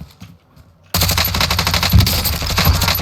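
Automatic gunfire in the video game Call of Duty Warzone starts abruptly after a quiet moment, a loud rapid burst of shots firing close and continuously, with heavier booms mixed in.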